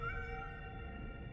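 A cat in the video game Nine Sols gives a single drawn-out meow, close and fairly quiet, with nothing else over it.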